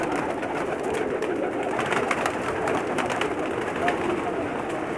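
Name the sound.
teddy pigeons cooing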